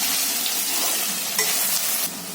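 Cooked rice is tipped into a pan of frying vegetable tempering with potatoes, giving a loud, continuous hiss and sizzle with light stirring scrapes that dips briefly near the end.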